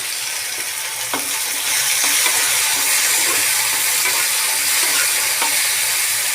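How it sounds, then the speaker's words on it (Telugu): Tomatoes are added to browned masala for a chicken curry, setting off a loud, steady sizzle and hiss with a few faint stirring knocks, close up and without talk. "ఇవైతే కొంచెం బ్రౌన్ కలర్లో వేగాయి కాబట్టి టమాటా కూడా వేసేసుకుందాము."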